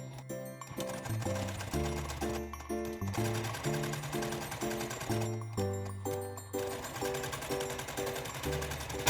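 A sewing machine stitches the loop seam of a Christmas stocking in close, rapid rhythmic bursts of needle clatter, pausing briefly between runs, with a motor whir underneath.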